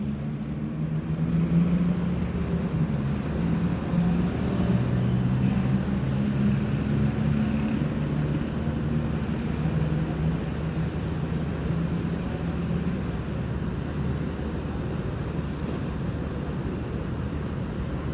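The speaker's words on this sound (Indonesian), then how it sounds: "Lorena pakai Jetbus 2 air suspension sasis Mercy OH 1626. mau ke Pekanbaru." A Lorena bus with a Jetbus 2 body on a Mercedes OH 1626 chassis with air suspension, a steady low engine rumble and drone that holds moderately loud throughout, slowly rising and falling in pitch.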